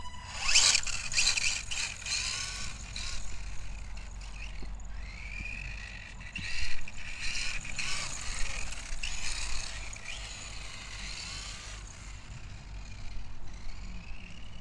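A freshly built 1990s Kyosho Raider Pro RC car runs with a noisy, whiny transmission, giving repeated revving bursts of mechanical buzz and gear rattle that rise and fall over a low rumbling background, fairly close and without talk.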